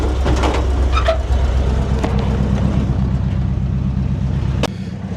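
A 1977 Ford F100 pickup with a swapped Tremec 5-speed runs close by, its engine giving a steady low rumble and mild revving throughout, with a few brief clunks and a sharp click near the end.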